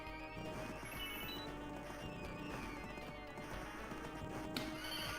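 Horse neighing in the arcade game Knights of the Round, a loud whinny over galloping clip-clop hoofbeats, game music and clashing effects.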